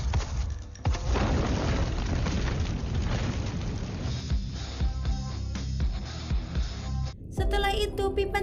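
A loud explosion of a room booms and rumbles on for several seconds with crackling debris, then cuts abruptly to a short burst of voices.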